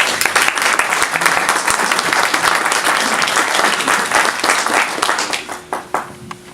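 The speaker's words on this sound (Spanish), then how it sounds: "Bienvenido y un aplauso para él" Loud, dense applause from a crowd, sustained and even, thinning toward the end into a few scattered individual claps.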